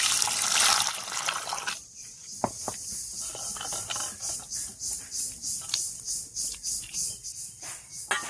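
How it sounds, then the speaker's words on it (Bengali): Cold tap water runs over boiled eggs as they are peeled, first as a brief broad gush, then as a quieter steady trickle with small splashes and light handling noises. "এবারে ডিমের ওপর ঠান্ডা জল দিয়ে ছুলে নিচ্ছি।"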